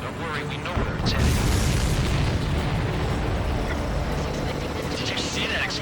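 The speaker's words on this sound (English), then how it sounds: "Did you see that explosion?" A supply ship explodes in the Ace Combat 7 aerial combat game: a loud, sustained, rumbling blast that swells and rolls on over steady jet and engine noise.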